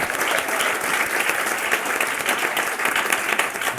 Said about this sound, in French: Nous pouvons applaudir Zina et Iva qui nous font l'honneur d'être ici ce soir.